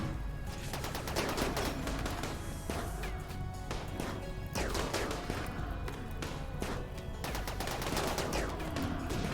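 Charge rifle and heavy SMG gunfire in the RimWorld video game, continuous dense bursts of rapid shots and impacts throughout, loud and layered, with faint speech underneath.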